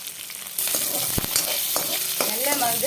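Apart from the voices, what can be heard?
sautéing green chili, garlic, curry leaves, ginger in pan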